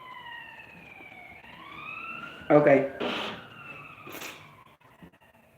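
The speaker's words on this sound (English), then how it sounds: "Here go motherfucking ambulance" An ambulance siren wails past, its rising and falling tones sustained across the clip while someone speaks briefly over it.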